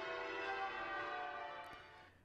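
Bells from an American bell tower rung in the English change-ringing style, a dense sustained wash of overlapping bell tones that rings steadily and starts to fade near the end.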